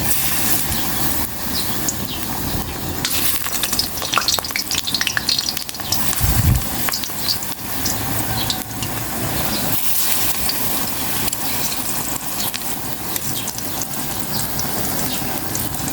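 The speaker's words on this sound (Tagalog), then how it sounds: "Mainit na itong kawaling may mantika. Magprito na po ako ng saging na saba." Saba bananas fry in hot oil in a pan, a continuous loud sizzle with crackling bursts and occasional stirring scrapes throughout.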